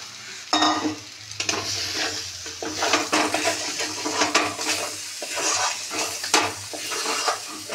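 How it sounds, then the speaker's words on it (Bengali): Chana dal being stirred in oil in a wok, with steady sizzling and repeated scraping of a spatula against the metal pan, fairly close and continuous, no talk. "ডালটা একটু নেড়ে নিতে হবে না, কড়াইতে তেল দিয়ে, কাঁচা তো আর খাওয়া যায় না।"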